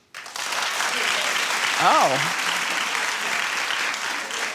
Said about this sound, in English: clap if you think it's too much.